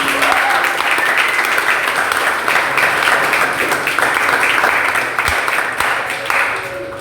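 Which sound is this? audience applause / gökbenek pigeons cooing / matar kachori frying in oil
audience applause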